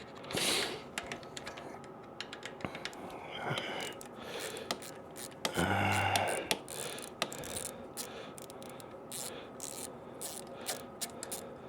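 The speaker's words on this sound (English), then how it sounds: "we're gonna pull these 3 screws out here for the coil packs" Screws being backed out of the coil packs on a Can-Am Ryker, with small ratcheting clicks and rattling tool sounds that come in irregular bursts, close but fairly quiet, with no one talking.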